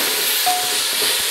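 Tomatoes and celery fry in a pan with salt, giving a steady, close sizzle and hiss with a brief thin whistle of steam partway through.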